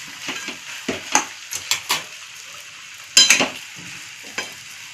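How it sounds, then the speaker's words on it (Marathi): A spoon stirs boiled potato and egg masala in a pan over medium heat, making a run of close scraping and clinking strokes over a faint sizzle, with no one talking. "गॅस मध्यम ठेवून असं आता एक 4 ते 5 मिनिट असं परतून घ्यायचं चांगलं हलवून"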